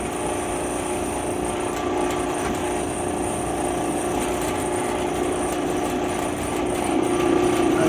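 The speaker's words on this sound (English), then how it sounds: "we're going to put a chamfer on here and deburr our hole" Tool chamfering and deburring a bolt hole in a Mopar 3.7 engine block, a continuous loud grinding whir with rattling texture, close and steady throughout with no pauses.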